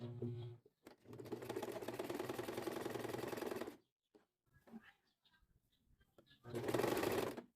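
A sewing machine stitches a side seam with backstitching, running in a long steady burst, pausing, then starting again, while a voice speaks softly in the quiet gap.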